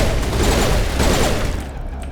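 Loud, close, continuous gunfire in the Mass Effect video game, a sustained fusillade of overlapping shots with no break for about two seconds.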